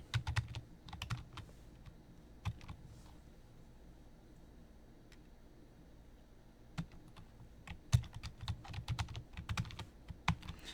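Typing a password on a computer keyboard during Jetson Nano setup, quiet scattered key clicks in short bursts with a denser flurry near the end, close and alone.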